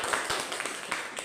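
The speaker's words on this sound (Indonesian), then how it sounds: "Tepuk tangan." Students clapping hands together in a classroom during a lesson, a brief burst of rapid, fairly faint claps from a group, slightly uneven in rhythm over roomy background noise.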